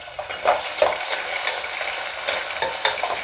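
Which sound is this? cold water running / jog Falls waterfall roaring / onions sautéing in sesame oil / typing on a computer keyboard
onions sautéing in sesame oil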